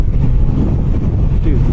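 Loud, steady low rumbling roar of wind buffeting the microphone on a motorcycle riding a bumpy road in northern Arizona, with road noise underneath.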